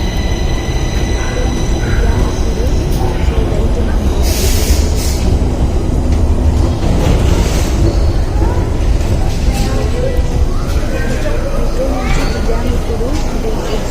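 A Stockholm metro train ride, loud continuous rumble of wheels on track with brief squeals and hiss from the cars, carried on nearby under someone speaking.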